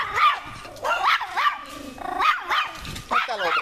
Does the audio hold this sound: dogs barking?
yes